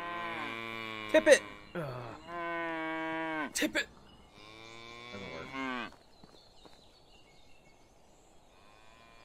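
A cow lowing repeatedly in the medieval farming game Medieval Dynasty, several long, drawn-out moos close by, followed by quiet, with someone briefly talking over the first calls.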